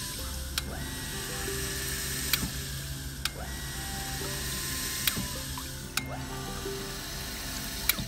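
Sanyo PH137AC household water pump cycling on and running with a steady mechanical hum and repeated sharp clicks, heard alone at close range.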